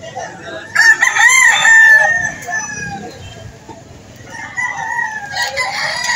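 Roosters crow loudly at a gamecock market in Lipa City, Batangas, one long crow up close and further crows and clucks from other birds following, with busy market noise around.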